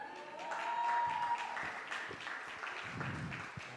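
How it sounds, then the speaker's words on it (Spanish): A home audience applauds a man named Pablo with a brief, soft round of scattered clapping at some distance, a few voices murmuring underneath. "denle un aplauso a Pablo"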